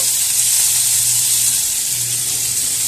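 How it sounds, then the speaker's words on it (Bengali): A vegetable dish frying over a high gas flame sizzles loudly and continuously at close range, a dense hiss of hot oil with a faint low hum underneath and no talking. "ভালো করে নাড়াচাড়া করে একটু দাগ ধরিয়ে ভেজে নেব গ্যাসে ফ্লেমটা হাই করে দিয়ে"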